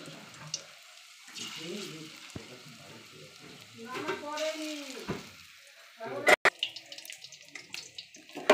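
Cabbage fritters frying in oil, a soft sizzle with some stirring and water-like splashes, faint and intermittent, with brief sharp clinks near the end and occasional talking.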